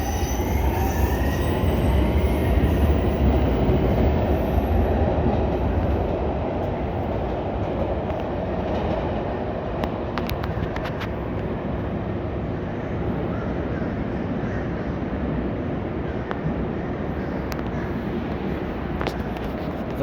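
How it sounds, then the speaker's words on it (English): Tri-Rail commuter train of old bi-level cars with a cab car pulling into a Miami station, a loud continuous rumble of wheels with squealing and clicking over rails, filling the whole stretch with no speech. "I don't know if anybody can hear me over the noise that the train's making."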